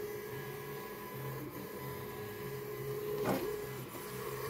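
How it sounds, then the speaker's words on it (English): A CNC laser engraver burns a black and white portrait onto canvas, giving a steady mechanical whir and hum with faint tonal lines and one brief louder sweep near the end, heard close up with no talking. "Black and white portrait laser CNC engraving."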